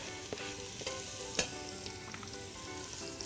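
Chopped garlic sizzles and fries in a hot pot, a steady crackling hiss with a few sharp spits and the occasional scrape of stirring, close and continuous without talk.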